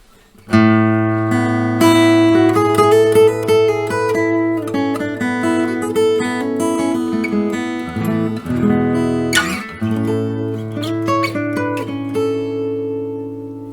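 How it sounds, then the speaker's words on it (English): Acoustic guitar recorded with a small USB microphone, strummed and picked in steady chords, close and full, with a slightly roomy, boxy tone and no voices. "that's the sound of my guitar with this little USB microphone"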